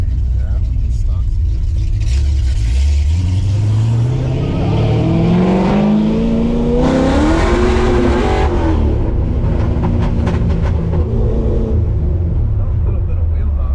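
A Foxbody Mustang fitted with rear Team Z springs and running on cold tires accelerates hard. The engine note climbs loudly through a long rev, then breaks up as the car hops, and people talk over the engine.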